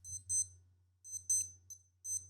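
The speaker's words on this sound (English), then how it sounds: "sorry, that's just my alarm." Alarm going off in a quiet room: repeated clusters of high, shrill electronic beeps in a steady pulsing pattern over a low hum, fairly faint, with no talking.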